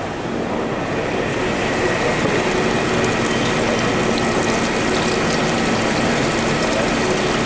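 A Royal Master TG12x4 micro size centerless grinder runs a part with coolant flowing, a loud, steady mechanical whir and rattling hum with no break, close by on a trade show floor.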